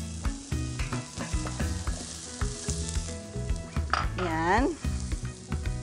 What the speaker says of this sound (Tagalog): Let the onions sweat a little, no?